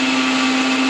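A kitchen mixer grinder dry-grinds cashews and poppy seeds. Its motor gives a loud, steady, high-pitched whine with no break, and nothing else can be heard.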